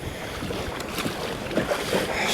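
Wind rushes steadily over open water during kayak fishing, a broad close blustery roar with gusts and some buffeting against the microphone, with no talking.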